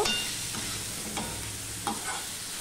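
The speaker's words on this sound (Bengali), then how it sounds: "এবার আলু পেঁয়াজ এগুলো ভালো করে আমি ভেজে নেব" Potatoes and onions frying in a pan for a prawn curry, a steady moderate sizzle with a few spatula scrapes against the pan.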